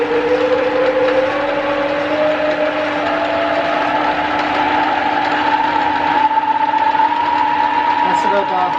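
A 1977 Schaublin 13 lathe spindle runs up through its higher range toward 2000 RPM, a steady close mechanical whine rising gradually in pitch over a continuous motor hum.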